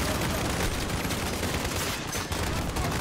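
Sustained gunfire in Call of Duty: Modern Warfare (2019) during the embassy mission, a dense rapid barrage of shots filling the whole stretch, loud and continuous without talking.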